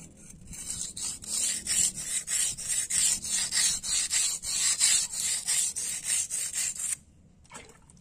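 Steady rhythmic scraping of a kitchen knife drawn back and forth over a coarse whetstone, close and fairly loud, about twenty strokes, then stopping near the end.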